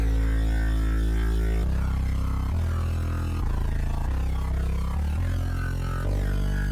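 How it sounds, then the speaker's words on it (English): A gritty bass synth preset from the Iconic Bank plays alone for a hip-hop beat, holding loud, sustained low notes that change pitch every second or so in a steady, throbbing pattern. "This is bass preset out of the Iconic Bank again."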